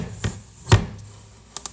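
A knife cuts into a tough butternut squash on a board, giving a few separate chopping thuds: one soft hit, then a sharper, louder strike and some lighter clicks, close and with no talk.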